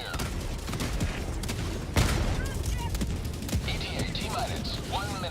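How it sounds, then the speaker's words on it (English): Orbital barrage explosions in the Helldivers 2 video game, a dense, continuous roll of booms and gunfire-like blasts with a heavy hit near the start, layered with game effects and some voice. "Orbital barrage incoming."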